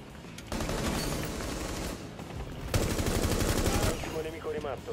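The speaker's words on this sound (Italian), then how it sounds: "Qui da destra ho sentito dei spari." Rapid bursts of automatic gunfire in the video game Rainbow Six Siege crackle in two long volleys separated by a short pause, loud and close, with a brief sharp shot at the start.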